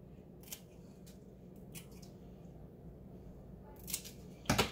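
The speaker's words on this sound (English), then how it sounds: "Now, looking at ones like this, I'm going to have to make a couple different cuts" Knife or scissors cutting through fennel stems and leafy fronds: a handful of crisp, separate snips spread irregularly, with a sharper cluster of two or three close cuts near the end, against a quiet background.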